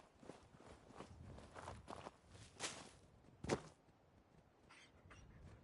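Heavy footsteps sound nearby in the video game Fallout 4, a series of thudding steps of varying loudness with one sharp, louder impact near the middle and no talk over them.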